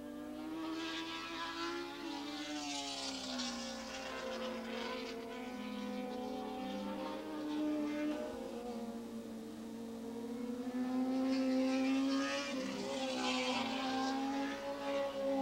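Suzuki superbike racing motorcycles scream past at Willow Springs during a 1986 superbike money race, engines rising and falling in pitch across two separate pass-bys at moderate distance, with no one talking.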